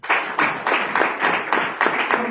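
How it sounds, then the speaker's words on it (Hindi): An AWPL event audience in Bharatpur bursts into loud applause, a short run of strong rhythmic clapping with a few emphatic beats. "एक बार जोरदार ताली।"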